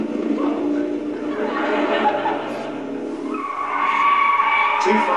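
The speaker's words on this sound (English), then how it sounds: "that was oversteering a front-wheel drive car" A front-wheel drive car's tires squeal and skid as it oversteers under engine noise, the screech rising toward the end, with voices talking over it.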